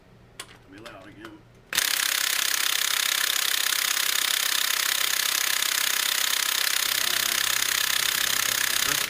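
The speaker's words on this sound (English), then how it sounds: "Got the big pneumatic gun, a shorter socket. Hopefully this will break this thing loose. This thing's really loud." A big pneumatic impact gun with a short socket hammers away at a Loctite-secured bolt during a timing belt replacement, a loud continuous rattling burst that starts after a few quiet moments and runs unbroken to the end.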